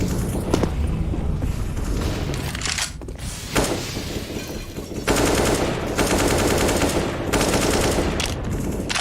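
Rapid automatic gunfire from a Counter-Strike match, dense sprays and bursts of shots repeating loudly across the clip with brief gaps between volleys.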